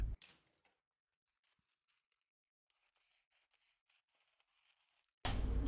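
Scissors cutting out a paper dress pattern piece, faint snipping and rustling close by in quiet surroundings, ending in a sudden loud burst of noise.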